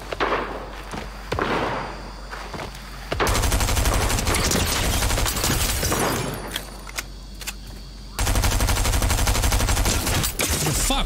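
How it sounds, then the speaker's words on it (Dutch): Video-game gunfire comes in loud, close bursts of rapid shots, with a few separate bangs and thuds between two sustained volleys. "Daar wordt geschoten."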